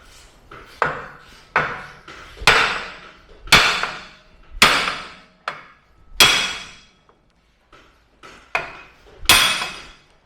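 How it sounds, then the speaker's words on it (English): Heavy metal-on-metal hammer blows on a Jeep steering knuckle ring out one at a time, about a dozen sharp strikes spaced irregularly with brief pauses, each ending in a short ringing decay. "hit the knuckle right on this flat spot here with the hammer until it breaks free"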